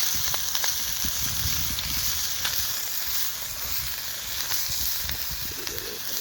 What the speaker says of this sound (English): we're going to add peppers, onions, chestnuts. Fry those up a little bit